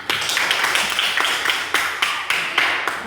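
Rhythmic group clapping in a classroom, a few sharp, evenly spaced claps in a steady beat, fairly close and loud, no talking over it.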